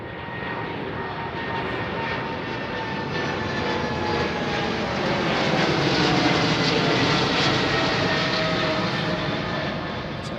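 Jet airliner on runway 09R at London Heathrow Airport, a loud sustained engine roar with a steady whine that swells and fades slightly, heard alone at a distance.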